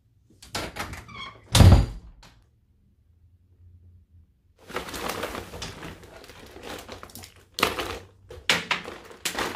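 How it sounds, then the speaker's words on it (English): A door is shut with one loud, heavy thunk, followed by quiet and then a run of thumps and rustling movement. "Close the door, please."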